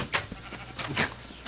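Blocky video game sheep from Minecraft bleating in a few short, close, moderately loud calls, with game background sound and no talking.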